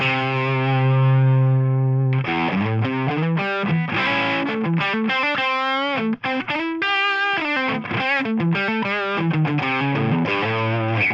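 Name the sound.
electric guitar through Tonex pedal with depth control raised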